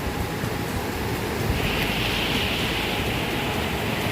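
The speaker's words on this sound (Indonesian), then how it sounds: "Sungainya bukan kaleng-kaleng, ternyata deras sekali nih." Fast-flowing, very large river rushing steadily, a loud continuous broadband roar of water filling the whole stretch with no talk.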